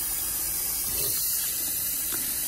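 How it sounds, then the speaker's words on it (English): Tap water pours steadily into a cooking pot holding raw chicken, a continuous close hissing splash with a slight rising fill tone, no talking. "We're going to fill this baby up to where the water is over the chicken."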